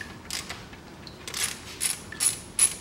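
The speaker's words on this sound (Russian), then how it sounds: "Теперь по периметру откручиваем все вот эти болты." A ratchet clicks in short bursts while oil pan bolts are loosened on the automatic transmission of a 2003 Toyota Caldina 2.0, close and moderately loud, with a faint metallic tick between strokes.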